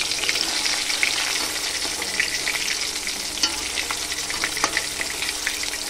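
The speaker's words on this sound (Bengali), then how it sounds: "তো এরকম করে হালকা হালকা করে ভেজে নেব" Pieces of katla fish crackle and sizzle in hot oil, a steady busy frying hiss dotted with sharp pops and spatters, close and fairly loud with no talking.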